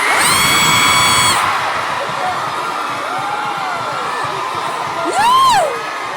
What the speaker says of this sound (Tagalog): Dahil kayo ay sumisigaw ng Duterte